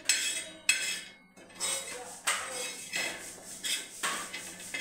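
A metal spatula scrapes the remains of eggplant bharit off a hot tava, making a series of close, loud clinks and grating scrapes in irregular bursts separated by brief pauses.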